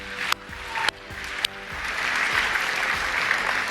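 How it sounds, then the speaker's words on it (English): An audience at a Microsoft tech keynote breaks into applause, a few sharp early claps swelling into sustained clapping that fills the room. "Yeah, you can clap."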